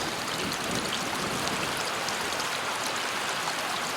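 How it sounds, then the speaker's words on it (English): A brook runs steadily along a Newfoundland coastal hiking trail at Norman's Cove-Long Cove, giving a continuous, close, even rush of flowing water with no voices over it. "if you come by the Dinky Brook"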